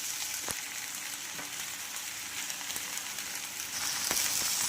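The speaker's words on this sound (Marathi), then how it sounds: "छान शिजेपर्यंत आपण ही खिचडी परतून घेणार आहोत" Sabudana khichdi with salt and coriander sizzles and fries softly in a pan, a quiet continuous crackle with occasional stirring scrapes.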